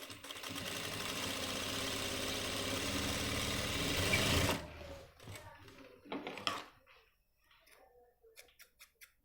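A sewing machine stitches a men's pant front pocket with a close, steady whirring run of a few seconds that stops abruptly, followed by quiet handling clicks and taps.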